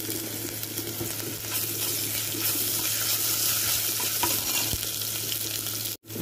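Ginger garlic paste fries with tomato in a pan, a loud continuous sizzle close up, with stirring scrapes throughout before an abrupt cut near the end.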